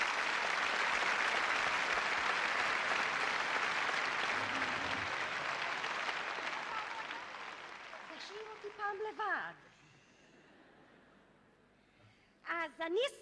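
Loud, sustained applause from a theater audience for television director Yossi Tzemach at a 1985 stage show, gradually fading, followed by a voice speaking.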